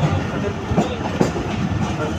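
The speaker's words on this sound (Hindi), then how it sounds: "यहाँ से ट्रेन गुजर रही है।" A train rolling through a town level crossing at Khanpur, a loud continuous rumble with rhythmic clickety-clack of wheels over rail joints, close by.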